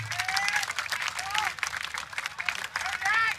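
An audience at an Indonesian sholawat gathering applauds with dense, sustained clapping and crowd noise, with an amplified voice speaking over it.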